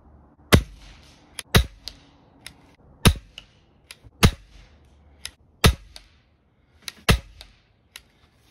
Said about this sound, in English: I'm going to see if I can hit the ram with this gun at 100 feet